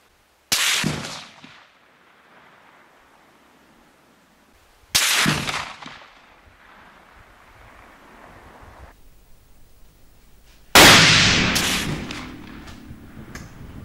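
Three sharp, loud rifle shots from a CZ 557 in .30-06 firing 9.60 g GPA bullets at a 200 m range, spaced about five seconds apart, each trailing off in a rumbling outdoor echo.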